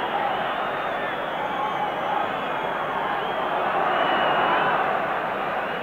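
Steady roar of a 50,000-strong football crowd at the Ireland v. Spain 1990 World Cup qualifier, a broad, continuous wash of massed voices heard from a distance, holding level with a slight swell near the end.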